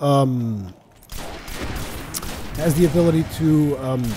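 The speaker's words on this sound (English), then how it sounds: "Right now, I'm using a semi-automatic rifle" A semi-automatic rifle fires in Destiny gameplay, its shots running together into a dense stretch of gunfire mixed with game effects and a voice talking over it.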